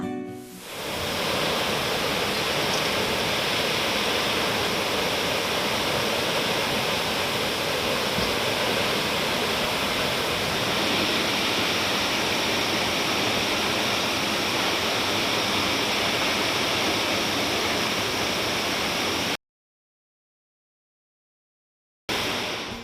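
A steady, roaring rush of water falling from a high cliff onto rocks at Mae Surin Waterfall, Mae Hong Son, broad and constant, cutting to silence for a few seconds before resuming briefly.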